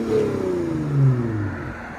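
A Lexus IS 250 with a 2.5L V6 and an LCGP resonator exhaust idles close by, giving a steady, low, smooth drone with a slight swell partway through and no voices.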